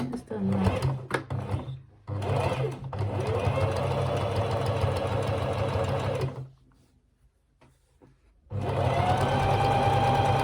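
A sewing machine stitches the facing of a wool coat, running in long, loud, close bursts broken by a short pause before it starts up again.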